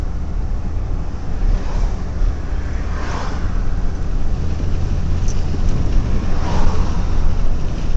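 A car drives up a hill in Sausalito, and its engine and road noise make a steady, loud rumble from inside the car, mixed with wind buffeting the microphone.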